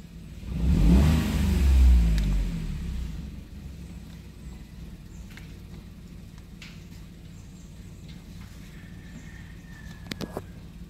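Toyota Wigo on a road test after a check-engine fault, revving loudly at first with engine roar for about three seconds, then settling into a steady, fainter cabin hum of driving on the road, with a few light clicks near the end.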